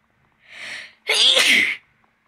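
A single human sneeze, close and loud: a short breathy intake followed by a sharp, explosive burst, with nothing else around it.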